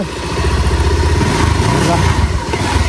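A motorcycle engine runs steadily and loud throughout on a rough, rutted road, with a continuous mid-pitched drone and rattly roughness.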